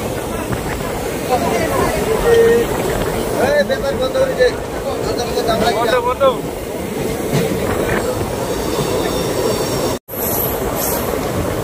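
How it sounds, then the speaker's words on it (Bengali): A small local passenger train pulls out of Rangjuli station in Assam, with a steady rumble, rolling wheel noise and brief squeals from the wheels close by. Continuous and loud, it has a few voices faintly mixed in. "রংজুলি থেকে ট্রেন ছেড়ে দিল"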